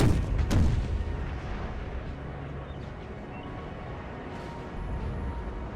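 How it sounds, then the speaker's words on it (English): Napoleonic artillery in Napoleon Total War, a cannon piece firing from a distance at cavalry: one sharp boom early, then a low rumbling battlefield wash with faint later reports. "It looks like the cav is also under fire from an artillery piece in the distance."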